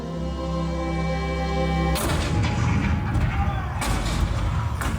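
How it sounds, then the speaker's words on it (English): Cannon fire in the Disneyland Lincoln show: after a steady humming tone, a sudden loud boom bursts in, followed by rumbling blasts and a second heavy report, booming and reverberant. "The cannon spoke for war."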